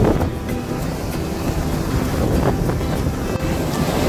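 Rough sea waves slosh and surge around a moving dive boat near Richelieu Rock in the Similan Islands, Thailand, mixed with heavy wind buffeting the microphone and a low engine rumble, loud and continuous.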